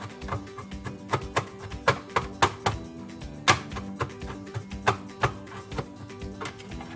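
Knife chopping crushed garlic for a bean dish, a steady run of crisp taps on a cutting board, close and clear, with no talking.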